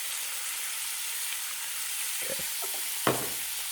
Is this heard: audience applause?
no